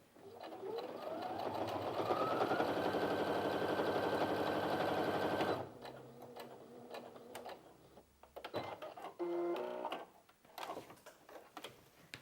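A Brother Innov-is F560 sewing machine hums as it stitches, rising in speed and holding a steady whir for several seconds, then slowing into short stop-start bursts with clicks and handling sounds nearby.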